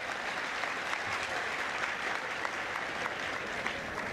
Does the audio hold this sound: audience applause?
yes